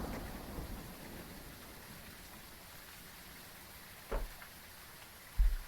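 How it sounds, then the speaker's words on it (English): Rain patters steadily in the background of the Phasmophobia horror game, with two short, louder rumbling bursts of thunder near the end. "The lightning out here is bright. It's the thunder that's loud."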